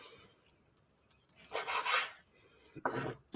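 A sharp knife trims a piece off raw beef for a beef, black bean and cashew stir-fry, giving quiet rasping scrapes, with two louder strokes of cutting standing out from the near silence around them.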